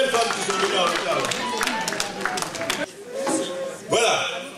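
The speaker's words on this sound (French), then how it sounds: "levez-vous qu'on vous applaudisse" Clapping from an audience at a Women's Day gathering, a brisk round of many hands with chatter mixed in, cutting off before someone speaks alone.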